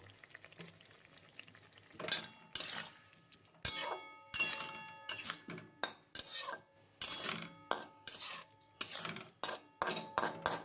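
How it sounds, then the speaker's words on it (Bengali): Potatoes with chili sautéing in a pan, a steady close sizzle with repeated sharp metallic clinks and scrapes of a spatula stirring against the pan. "কষাই ভালো করে আলুগুলো মোটামুটি কষানো হয়ে গেছে"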